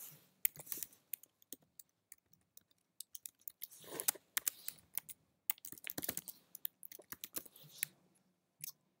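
Keys clatter on a Chromebook keyboard as an example email address is typed, close, crisp clicks in quick irregular bursts separated by short pauses, with no speech.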